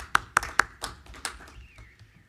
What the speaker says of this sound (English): a round of applause to all of them for all that they do